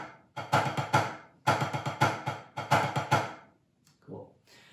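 Sticks tap a practice pad in quick repeating groups with accented strokes standing out, followed by a brief murmur of a voice at the end.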